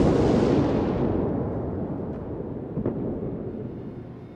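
A warship's gun salvo fires in the naval game World of Warships, a heavy booming blast with a long rumbling decay and a faint crack or two as it fades, no talk.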